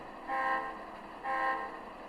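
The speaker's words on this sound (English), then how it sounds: "we're going to go ahead and blow our whistle signal" Two short toots of a model train horn or whistle on a MoPac switching layout, a first blast then a second after a pause, steady tones standing alone at moderate level.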